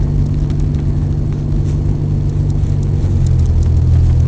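A Timken tribute car, the Trojan, drives through a parking lot with a steady, close engine rumble and a low hum that holds throughout and swells slightly near the end. No one speaks.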